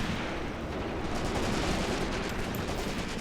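Dense gunfire and artillery in the World War II tactics game Graviteam Tactics, a constant roar of overlapping shots and bursts from machine guns and heavier weapons, loud and unbroken throughout.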